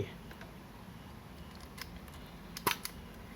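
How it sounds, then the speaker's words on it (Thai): A Canon QL film camera's shutter fires on the bulb setting: a faint mechanical click, then a sharper double snap a second later as it closes, over quiet room hiss. "เทสชัตเตอร์บี"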